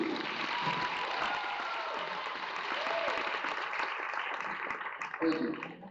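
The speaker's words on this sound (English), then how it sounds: "let's give one more round of applause for our seniors" Steady applause from a large crowd at a high school volleyball game, continuous dense clapping that holds for several seconds with a few cheers near the end.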